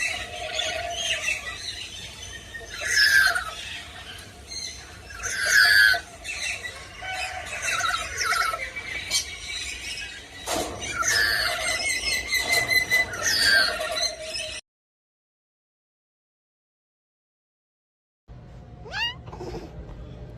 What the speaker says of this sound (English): The black-capped lory glides through the rainforest with bright colors and playful calls.